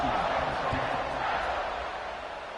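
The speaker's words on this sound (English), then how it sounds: "this crowd is buzzing after that last score." A stadium crowd buzzing in a college football video game after a score, a loud, dense and steady roar that fades slightly toward the end.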